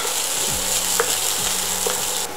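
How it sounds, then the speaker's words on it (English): Bean sprouts stirred and sautéed in hot oil in a pan, a steady close sizzle with a few scraping strokes of the spoon across the pan. "we're going to start stirring this and sautéing it so that all the oil is"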